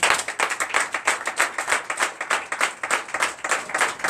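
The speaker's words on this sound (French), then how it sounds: "Donne l'acclamation" A church congregation at a Sunday service in Comè, Benin claps together in a fast, even rhythm, loud and close, with no speech over it.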